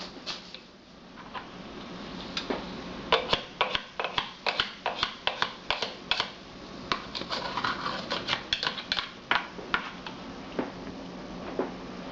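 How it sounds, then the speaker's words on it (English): Ginger and garlic being mashed for a raw vegetable soup, giving a run of sharp, close knocks and taps in irregular bursts, quiet at first and then dense and steady through the middle, with no talking. "mashing up some ginger and garlic to put in"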